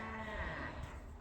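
A sheep being raised in a garden bleats once, a short wavering call that is fairly close and moderately loud against a low outdoor background.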